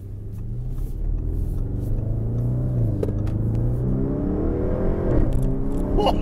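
A 2016 Audi RS7 accelerates while driving, its engine rumbling and rising in pitch through a few gear pulls, heard from inside the cabin as a steady, strong drone that swells near the end.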